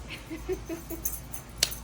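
A small dog whimpers and yips in short, soft bursts at close range, with a few higher squeaks toward the end over low household background noise.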